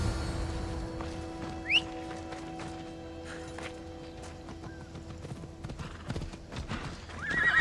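A horse in Assassin's Creed Odyssey trots with rhythmic clip-clop hoofbeats and lets out several high neighs, with faint game ambience underneath.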